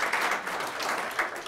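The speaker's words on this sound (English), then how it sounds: "Give our Alderman a nice round of applause." A chamber of commerce audience applauds an alderman at a mayoral candidate forum, brief steady clapping heard alone throughout.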